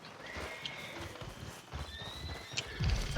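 An Arabian horse in the Red Dead Redemption 2 video game gives a close, clear neigh over the steady clip-clop of galloping hooves, with no talking.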